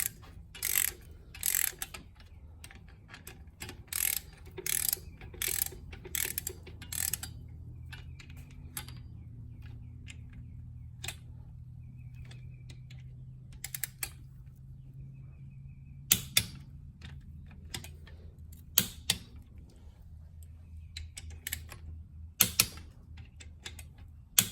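A torque wrench ratchets in quiet bursts of sharp clicking while engine bolts on a rusted, waterlogged Yanmar boat engine are tightened, with short pauses between runs and a faint low hum underneath.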